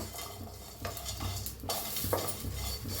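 Green chillies and grated coconut are dry-roasted in a pan, a utensil stirring and scraping against the metal with a light sizzle underneath, steady and close throughout.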